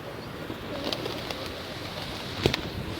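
Wild pigeons, including a blue feather-footed bird, coo softly while bathing outdoors, a few low cooing calls over steady background noise, with a brief flutter or call near the end.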